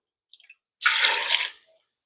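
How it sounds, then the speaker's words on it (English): A cup of distilled white vinegar poured into a pot for apple butter, with a few faint ticks before one close, steady splashing pour of under a second. "and 1 cup of distilled white vinegar"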